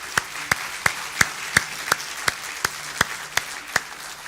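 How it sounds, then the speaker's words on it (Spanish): A church congregation claps together in a steady, even rhythm, about a dozen sharp, loud claps spaced evenly with little else between them. "Dale un aplauso a Cristo."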